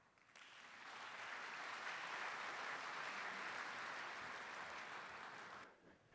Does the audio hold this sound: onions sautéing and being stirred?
no